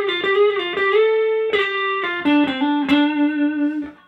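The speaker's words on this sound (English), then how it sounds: "I'm first doing some hammers and pull-offs, then I'm doing a bent note, then I'm sliding, and then I'm sliding further" An overdriven electric guitar plays a blues lick slowly, with hammer-ons, a bent note and slides. A string of distinct picked notes shifts pitch and rings clearly on its own.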